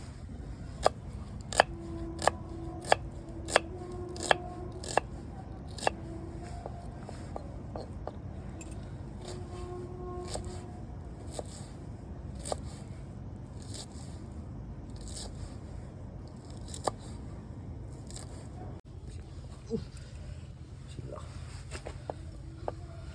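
Fenugreek leaves being finely chopped for methi paratha, a series of sharp, crisp cutting clicks in a quick rhythm at first, then sparser taps, close and clear over a low background hum.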